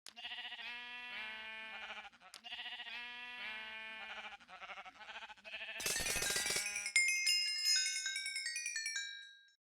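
Minecraft sheep on a wool farm bleat in a run of clear, repeated game cries. The bleating is followed by a bright, ringing chime burst that fades out at the end.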